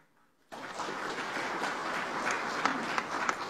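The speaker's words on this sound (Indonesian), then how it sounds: "Jangan tepuk tangan dulu." Audience applause during a speech by the Indonesian president to regional heads and officials, beginning abruptly after a quiet moment and holding steady with some louder claps toward the end.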